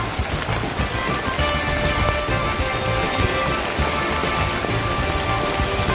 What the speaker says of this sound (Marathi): जोरात चालू झाला पाऊस आता.